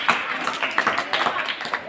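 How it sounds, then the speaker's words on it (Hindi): An audience applauds a student speaker at a school Gandhi Jayanti and Shastri Jayanti event, a short burst of scattered, fairly loud clapping close by with a voice heard over it. "जोरदार तालियां कार्तिक जोशी के लिए।"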